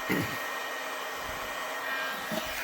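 A heat gun blowing hot air while warming a leather holster, a steady close whooshing hiss throughout with a couple of faint handling knocks.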